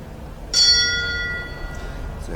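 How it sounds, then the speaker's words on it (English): A single bell rings out at a show jumping event to signal a restart, one clear strike that decays slowly over faint arena background noise. "So bell goes again."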